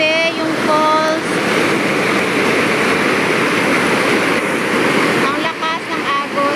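A waterfall and a strong river current roar in a steady, loud, broadband rush beside a trekking trail, with bird chirps faintly over the water.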